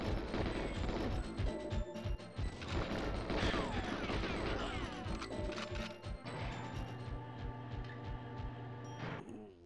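Chaotic GoldenEye 007 video game gunfire, repeated shots and crashing impacts layered over a busy music and effects track, with some faint talking.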